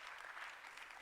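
A hall audience at a Mek Mulung cultural symposium claps in a dense, even burst of applause, steady and fairly faint for about a second.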